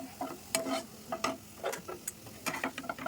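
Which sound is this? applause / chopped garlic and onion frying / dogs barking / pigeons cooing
chopped garlic and onion frying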